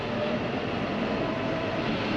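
A four-wheel-drive tractor with a mower sits with its power shafts engaged, giving off a loud, steady mechanical roar and whirr that holds unchanged throughout, with no voices.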